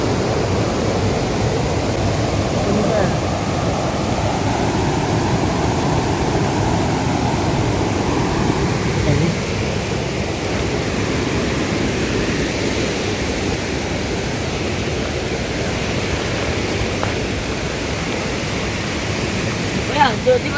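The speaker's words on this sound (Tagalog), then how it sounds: "Lakas ang agos eh." Strong river current rushing continuously on a farm outing, a loud steady roar of flowing water that holds throughout with little change.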